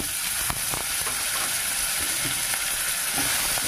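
Mustard seeds tempering in hot oil with curry leaves, green chili and garlic paste, giving a steady, dense sizzle and hiss with occasional small pops and crackles, close and continuous throughout with no talking.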